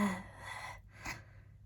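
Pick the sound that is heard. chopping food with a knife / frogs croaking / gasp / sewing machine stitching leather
gasp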